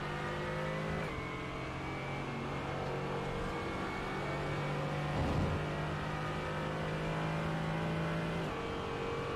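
A race car engine drones and revs continuously on track at Spa-Francorchamps in a sim racing game, with a sustained loud whine and shifting gear tones and no speech.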